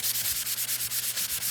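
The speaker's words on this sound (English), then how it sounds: "let's just sand it just a little bit" Wooden piece being sanded by hand with a sanding block, a steady run of rapid back-and-forth rasping strokes, close and loud with no voices.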